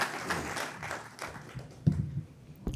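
Clapping from the audience at a mushaira poetry gathering, a brief rhythmic patter of hands that fades after a couple of seconds, with a few isolated thumps afterwards.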